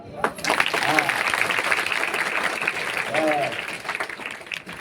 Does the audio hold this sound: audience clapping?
yes